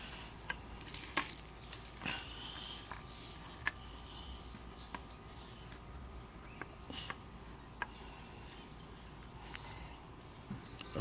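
A handmade wooden crankbait fishing lure shaken by hand, its internal rattle giving small scattered clicks and ticks over a steady low background hum, fairly faint and close.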